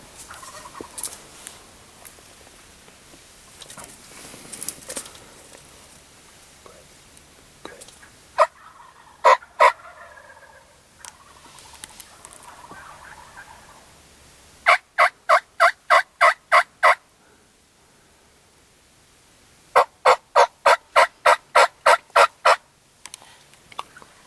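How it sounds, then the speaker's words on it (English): Wild turkeys gobble in Kansas before daybreak, over and over, rapid rattling bursts in quick series, some close and loud, others fainter and farther off, with quiet gaps between. "the gobblers started gobbling at 6:21, 45 minutes before daybreak. They're going nuts. I hope you can hear them."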